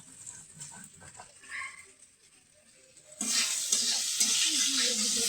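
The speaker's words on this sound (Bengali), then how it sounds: "কিন্তু আলু ভাজা হতে থাকুক" Potatoes fry in a pan for a bitter gourd, potato and eggplant curry with carp head; quiet scraping and shuffling give way to a loud, sustained sizzle in the latter half.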